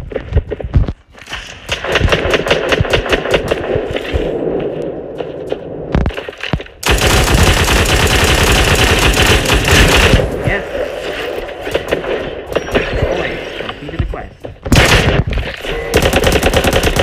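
Cyber Hunter gameplay gunfire: rapid automatic bursts and loud cracking shots in long stretches, broken by brief pauses, with a voice talking intermittently over the shooting.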